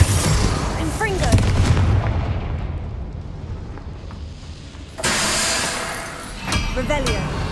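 A Confringo fire spell explodes in Hogwarts Legacy, a loud burst of noisy blast energy that rolls on and fades, then a second sharp eruption hits near the end amid game sound effects.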